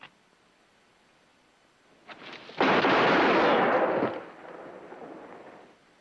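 A gunshot rings out in a western drama scene, with a soft pop near two seconds followed by a loud, broad blast at two and a half seconds that trails into a lingering rumble and echo.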